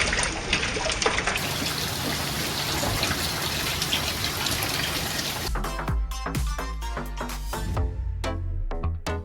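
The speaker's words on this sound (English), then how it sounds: "Starting to rain a little bit" Light rain patters around a boat in a bay: first a steady hiss of falling drops, then scattered close drips and splashes landing on surfaces.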